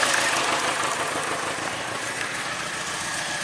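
A Chevy engine with a misfire and low fuel pressure idles with a steady, rough mechanical drone and faint irregular pulsing, close by and without talk.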